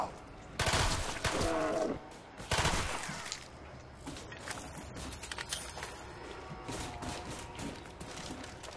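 PM63 submachine gun gunfire in the Shangri-La map of Call of Duty zombies, two loud sustained bursts of rapid automatic fire close up, followed by quieter scattered shots and game noise.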